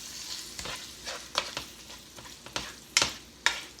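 A spoon stirs sharp shredded cheddar into a hot cheeseburger casserole with the heat off, giving soft scraping and clacking strokes at an irregular rhythm, a few sharper spoon knocks against the pan, and a faint residual sizzle beneath.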